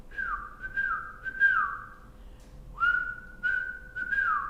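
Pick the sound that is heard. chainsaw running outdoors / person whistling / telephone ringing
person whistling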